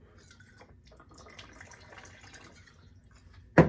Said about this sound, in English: So you need to know how to pour with your left hand as well.